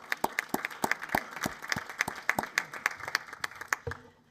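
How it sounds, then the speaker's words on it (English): Audience applause at an evening event hosted by the Gymkhana Club, many hands clapping steadily in a room for a few seconds before fading out at the end. "So please join me to give a big round of applause to the Gymkhana Club this evening for hosting us."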